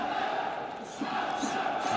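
Arena crowd at a title fight in Krasnodar, a steady roar of cheering and shouting with a swell near the end, fairly distant.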